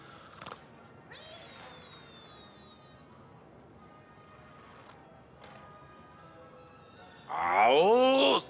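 A cartoon cat on a television cat-and-mouse show meows several times, faint short cries at first and then a loud drawn-out yowl near the end, heard in a quiet room.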